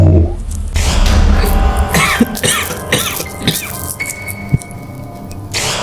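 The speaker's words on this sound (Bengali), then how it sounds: "কেউ যেন খক খক করে কাশছে" Several sharp coughs and throat-clearing bursts scattered over a few seconds, close and loud against a low rumbling background.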